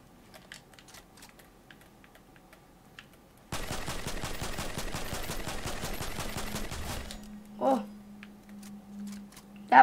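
Rapid bursts of primal pistol fire in Fortnite rattling off in a fast continuous stream for a few seconds, preceded by quiet clicking and followed by a couple of short thuds, with no talking.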